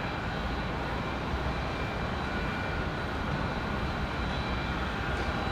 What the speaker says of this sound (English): CRJ off to New York